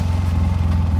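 A motorcycle engine with 1,052 miles on it idles steadily and close by, giving a low, even, rhythmic putter with no voices over it.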